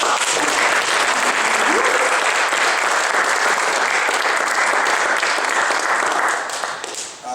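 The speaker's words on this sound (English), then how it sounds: "So let's give a big round of applause." An audience at a Startup Grind Minneapolis talk breaks into loud, sustained applause that fills the room for several seconds before starting to thin at the end.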